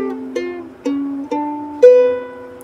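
Fingerstyle ukulele picking chords, five plucked notes in a slow, evenly spaced sequence that ring and decay into one another, close and clear with no talking.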